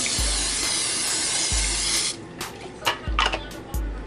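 A long hissing spray of cooking spray onto crab legs runs for about two seconds, then short bursts follow, with a few dull thumps underneath.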